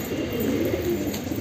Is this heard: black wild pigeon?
yes